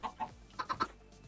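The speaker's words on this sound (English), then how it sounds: "And there's another chicken." Chickens in the video game StoneBlock 2, a Minecraft modpack, cluck in short bursts: two quick clucks, then a run of three closer together and a softer final one, near and fairly clear.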